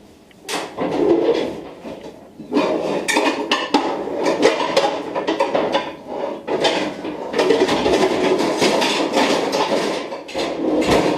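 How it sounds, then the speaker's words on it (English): A large skillet clatters on a stovetop, with repeated metallic knocks and scrapes of cookware being handled, moderately loud and close, no voices. "Large skillet, which will be right here."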